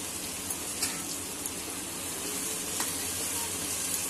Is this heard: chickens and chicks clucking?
no